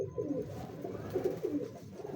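A mature, well-built pigeon with a broad chest coos in a quiet series of low, throaty, rhythmic pulses repeating over a couple of seconds, close by.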